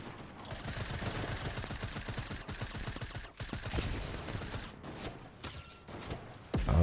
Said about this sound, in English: it sounds like they have the boom sniper